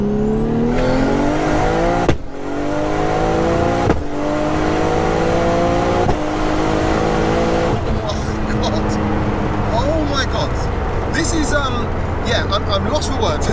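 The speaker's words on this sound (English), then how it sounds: "The bangs it lets off, you feel them through your body." A 955bhp sequential-gearbox Nissan R33 GTR roars loud and close through hard acceleration, with abrupt gear-change cuts near two, four and six seconds and crackling exhaust bangs popping over the engine toward the end, under people talking.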